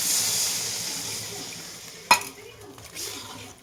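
Water goes into a hot pan of raw jujube chutney with a bay leaf, giving a loud hiss that slowly fades, followed by a sharp clank of utensil on pan and a softer bubbling.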